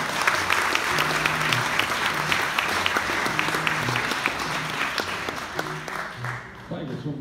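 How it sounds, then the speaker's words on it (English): An audience applauds steadily for several seconds, a dense wash of clapping from many hands that fades slightly at the end. "Nice round of applause, please."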